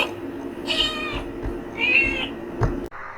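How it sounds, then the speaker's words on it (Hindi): A frightened cat meows loudly in a few sharp, drawn-out cries, close and clear, followed by a brief knock. "बिल्ली जोर से डरकर बोली"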